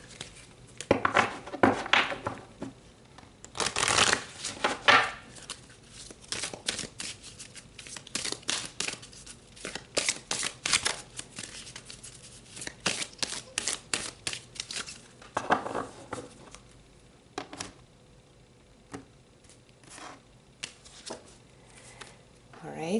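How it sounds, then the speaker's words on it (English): Tarot cards are shuffled close by in bursts of riffling, snapping and flicking. Quiet pauses separate the bursts, with a dense flurry around the fifth second and another near the fifteenth, and soft talk is heard in between. "let's pull some more cards"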